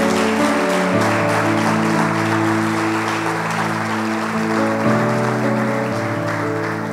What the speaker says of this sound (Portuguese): Você pode aplaudir ao nosso Deus.